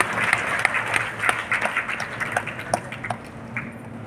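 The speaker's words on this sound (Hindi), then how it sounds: "जोरदार ताली होनी चाहिए आप सर की ओर से।" An audience at an award ceremony claps for a district magistrate being honoured, loose scattered clapping with distinct individual claps popping out, moderately loud at first and thinning toward the end.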